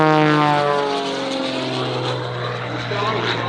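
An F-35 fighter jet makes an airshow pass, its engine a loud, steady roar whose pitch slides downward as it sweeps by, filling the whole span with no breaks.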